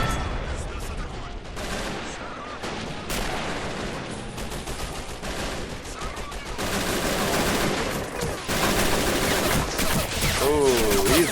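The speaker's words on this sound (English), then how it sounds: "Down, and a hail of gunfire." Gunfire in a Men of War: Assault Squad 2 (modded) battle with a Russian tank charge: dense bursts of machine-gun and rifle shots with heavy explosions, nearly continuous and loud, with brief talk over it.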